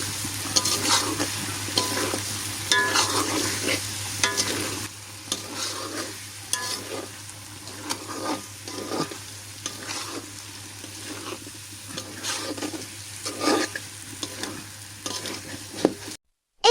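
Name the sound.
stir-frying spices and potatoes for chicken khichuri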